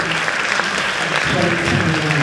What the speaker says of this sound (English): Let's give our friends another round of applause.